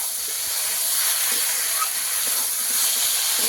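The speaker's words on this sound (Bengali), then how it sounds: "এবার মশলার সঙ্গে মাছটাকে একটু কষিয়ে নেব, ভালো করে মিশিয়ে নেওয়া পর্যন্তই কষাবো।" Pieces of fried kuchia fish are stirred with spices in a hot pan, giving a continuous, fairly loud sizzling hiss with no talking.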